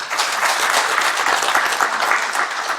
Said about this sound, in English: I'd like a big round of applause for Joan.